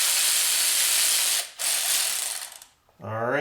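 A ratchet zips nuts off during a Toyota Highlander water pump job, a loud, close, continuous whirring rattle that stops briefly twice before a last short burst.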